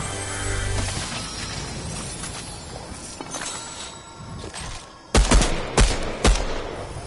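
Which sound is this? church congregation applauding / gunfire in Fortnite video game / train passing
gunfire in Fortnite video game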